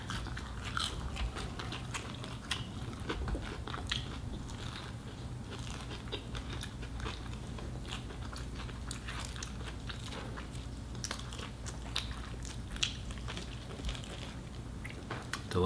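Two people bite and chew crunchy onion rings and chicken nuggets up close, with repeated crisp crunches and steady chewing going on for a long stretch and no talking.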